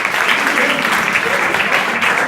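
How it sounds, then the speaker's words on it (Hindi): Students in an inter college hall break into loud, continuous applause at an adolescent education workshop, a dense wash of hand claps with no pauses. "बेटा इनके लिए ताली बजाओ।"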